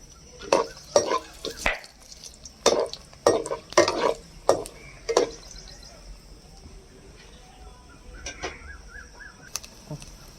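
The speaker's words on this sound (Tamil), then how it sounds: "எண்ணெய் நல்லா சூடாயிருச்சு. மிளகாய் போட்டுக்கலாம். வரமிளகாவும் போட்டுப்போம்." Green chilies and dried red chilies hit hot oil in a pan, giving a burst of sharp clattering stirs and crackles in the first half, then a softer, steady sizzle with occasional light clinks.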